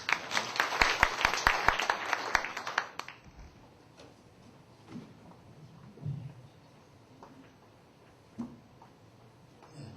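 Audience members at a church camp forum clap for a pastor about to speak, a brisk burst of many hands for about three seconds that then cuts off, leaving a quiet room with scattered small knocks and shuffles.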